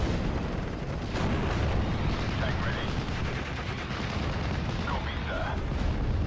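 Dense rumbling barrage of rocket artillery and explosions in a WWII Normandy battle, Nebelwerfer launchers firing amid a continuous roar of distant gunfire and blasts, steady and loud throughout with no clear separate shots.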